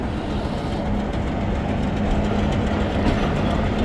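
127 Mehr Express hauled by locomotive 8034, a loud, steady rolling rumble of heavy train wagons with low engine drone and faint rhythmic track clatter, continuous throughout.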